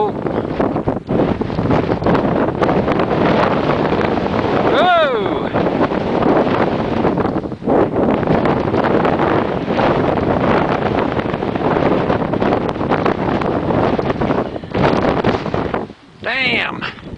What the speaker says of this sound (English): Wind about ripped the camera out of my hands.